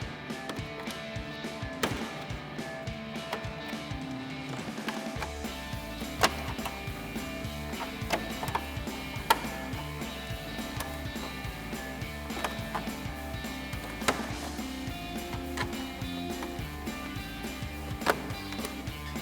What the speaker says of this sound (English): So now we'll get our push clips in place.